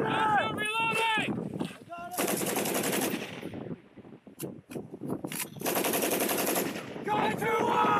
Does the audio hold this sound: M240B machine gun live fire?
yes